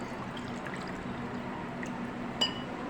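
Half a cup of water is poured into a pot of layered aloo biryani, a quiet, steady pouring trickle over low kitchen background with a small clink near the end, no talking.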